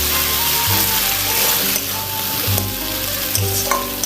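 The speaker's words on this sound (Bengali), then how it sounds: "ভালো করে কষিয়ে নেব।" Meat for a spiced kosha mangsho curry sizzles steadily in a hot pan while being stirred, with a continuous loud frying hiss and periodic scraping, clattering strokes of the spoon against the pan.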